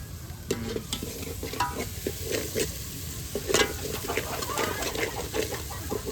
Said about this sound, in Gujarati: મિત્રો હવે આપણી ગ્રેવી પાકવા થઈ ગઈ છે ભાઈ.